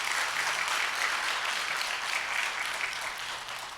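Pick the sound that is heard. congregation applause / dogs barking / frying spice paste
congregation applause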